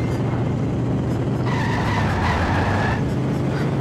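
In The Simpsons Hit & Run video game a car skids with a loud, sustained tire squeal over a steady engine roar, the squeal strongest in the middle and easing off toward the end.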